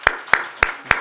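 A church congregation claps for volunteers during a Sunday worship service, four sharp, evenly spaced claps that ring out at a steady rhythm in a reverberant hall.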